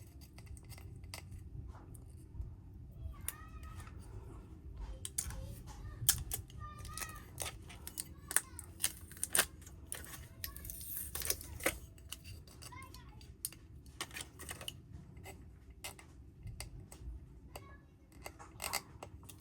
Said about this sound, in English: And now we can start taking off the tape and see what we have.